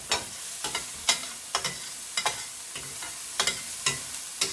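Vegetables for vegan fried rice sizzle loudly in a hot pan, broken by a steady run of sharp scraping strokes as a spatula stirs and tosses them, close up with no talking.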